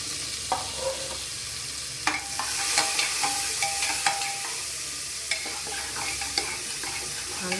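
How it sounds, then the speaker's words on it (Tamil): Chopped onions frying in oil in a pan for mushroom biryani, a steady close sizzle broken by scraping stirs and light clinks of a spoon. "இதில் வந்து வெங்காயம் போட்டுக்கலாம்."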